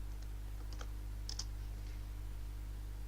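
A few light computer keyboard keystrokes click quietly over a steady low hum as a command is typed, with a short burst of taps in the middle.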